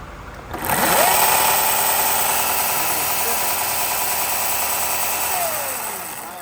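A Ryobi 18 volt cordless chainsaw starts up and runs at a steady whine for several seconds with its chain spinning while the oiler is pumped, then winds down near the end.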